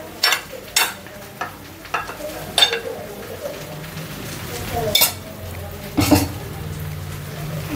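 Vegetable bhaji with plenty of onions is stirred in a frying pan, with a spoon scraping and clinking at intervals over a low sizzle and a few brief voice sounds.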